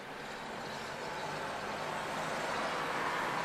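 Constant rumble of city traffic in Chicago heard from inside a moving 1964 Rambler, a broad steady road and engine wash that swells slightly, with no distinct horns or voices.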